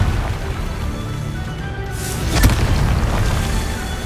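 A Confringo fire spell detonates in the video game Hogwarts Legacy as a single sharp blast midway through, which then leaves a steady low rumble of game ambience.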